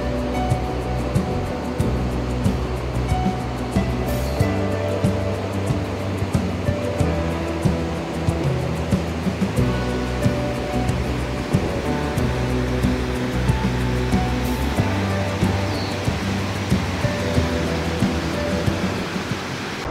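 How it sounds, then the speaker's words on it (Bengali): Rainwater runoff after days of rain rushes down a mountainside near Sissu toward the Chandrabhaga river, a loud, continuous broadband roar of churning water close by. "এটা কিন্তু কোনো নদী নয় বা কোনো ঝর্ণাও নয়, স্রেফ বৃষ্টির জলটা নামছে।"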